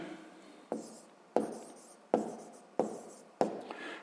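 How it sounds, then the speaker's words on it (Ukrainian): Pen or pencil writing by hand on paper while working a sixth-grade maths exercise: five distinct scratchy strokes, each a sharp onset that tapers off, evenly spaced about a second apart and heard close. "Пишемо."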